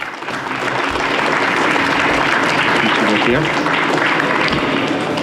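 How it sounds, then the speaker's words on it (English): An audience claps loudly and steadily to welcome American Superbike Championship rider Josh Hayes at a Yamaha fan event, a dense, sustained round of applause with some crowd noise and no talking. "Give him a big round of applause."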